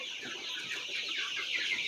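Sonali breed chickens cluck in a short, busy burst, several birds overlapping in close, moderately loud calls with no voices over them.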